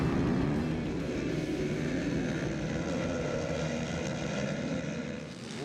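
A pack of ATV motocross quads, including a Phoenix Racing Yamaha, revs hard at the start gate of a national championship race. The engines make a dense, loud, continuous roar that holds steady and eases slightly at the end.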